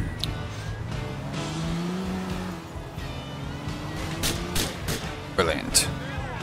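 A car drives through the streets in the video game GTA IV, its engine and tires rumbling under game character dialogue, with some sharper bursts and squeals near the end.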